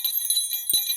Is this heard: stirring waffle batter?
no